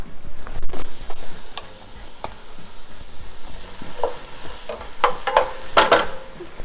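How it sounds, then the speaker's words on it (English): Garlic meets a pan of wilting greens for a quick soup over moderate heat, giving a soft, sparse sizzle broken by scattered clicks and scrapes of stirring. The clicks grow more frequent toward the end, with no voices. "At this point, I'm going to also put in the garlic."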